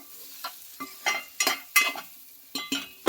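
Fish keema with coconut fries in a pan, with a run of close stirring scrapes and brief sizzling bursts over a quiet background.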